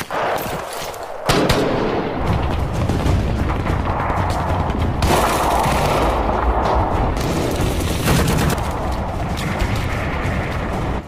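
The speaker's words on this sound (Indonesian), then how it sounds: "mereka pun melesatkan peluru bersama-sama" Gunfire from a sniper mission scene in a film rings out as sustained loud bursts of shots and booms with crashing impacts, continuing densely for several seconds after a sudden start.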